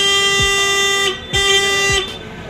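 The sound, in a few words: bus horn honking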